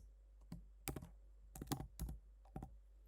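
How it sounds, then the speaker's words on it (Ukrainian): Quiet clusters of keystrokes on a computer keyboard come in short, uneven bursts of clicking with brief pauses between them. "Пишемо тут price."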